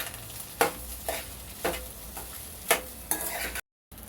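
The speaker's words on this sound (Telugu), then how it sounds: "ఒకసారి కలుపుకుందామండి బాగానే." A spoon stirs egg rice with turmeric and chili powder in a pan, making soft intermittent scrapes and clinks over a low sizzle, about seven strokes before the sound cuts out.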